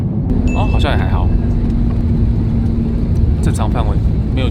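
Steady low cabin roar of an airliner on approach to a short runway at Longyearbyen, a constant engine rumble filling the clip while people talk over it.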